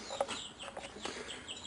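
Chickens cluck softly nearby in short, scattered calls, faint and quiet against a light background.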